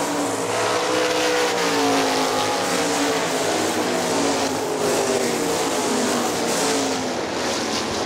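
Sprint cars roar around the dirt oval at Hartford Speedway Park, a dense, steady wall of loud racing engine noise throughout with no break.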